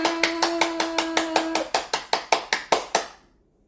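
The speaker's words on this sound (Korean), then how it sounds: "우리 하나님께 영광의 박수를 크게 쳐서 하나님을 기쁘시게 해드리도록 해요" A church congregation claps in unison, about fifteen sharp, loud, evenly spaced claps over a sustained musical tone that stops partway through, before the clapping ends and fades to silence.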